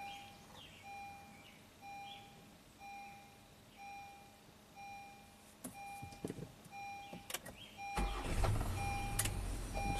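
A parked Honda car that has been turning itself on and draining its battery, heard through quiet electronic chimes and faint clicks before the engine cranks and catches near the end, growing louder and rougher.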